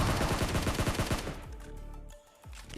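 Shotgun gunfire in the PUBG Mobile battle royale game, a rapid series of loud blasts packed into the first second and a half, then sparser shots and echoing tails that fade into a brief quiet.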